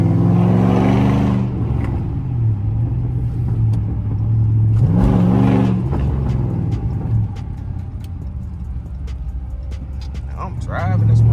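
A 2013 Chrysler 300C drives by day, its engine rumbling steadily from inside the cabin and rising in two revving surges, with a few faint clicks near the end.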